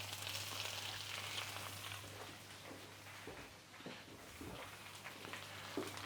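Wild boar burger patties frying in a pan, a steady broad sizzle with a low hum underneath and a few soft scraping knocks as they are moved around, no talking.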